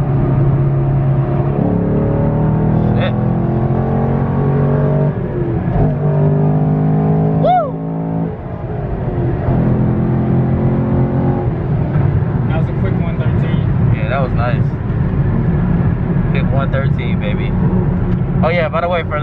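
A 500 hp Camaro 2SS with automatic rev matching on downshifts revs and accelerates on the road in Mexico, engine tone rising and falling repeatedly under ongoing conversation inside the car.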